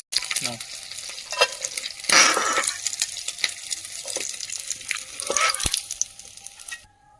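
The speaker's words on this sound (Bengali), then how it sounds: "খুব ভালো করে মাছগুলো ভাজা হয়ে গেছে, দুই পিঠ লাল লাল করে" Fish fries in oil, sizzling steadily with bursts of crackling spatter and occasional stirring scrapes, close and fairly loud, no voices.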